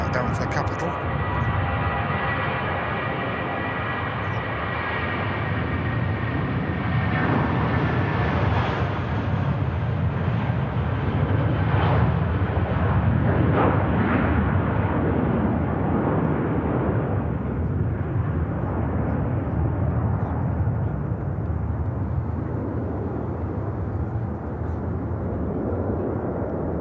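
A British Airways jet rolls down the runway on takeoff, a loud, steady roar that builds and spreads broadly before easing slightly toward the end, with wind buffeting the microphone.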